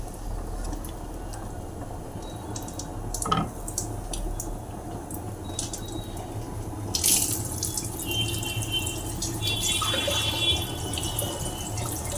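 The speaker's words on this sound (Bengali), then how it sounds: "পরিমাণ মতন জল দিয়ে দিলাম" Water is poured into a Katla fish curry with potato and ridge gourd as it cooks, a soft continuous splashing and trickling close by with a few clinks.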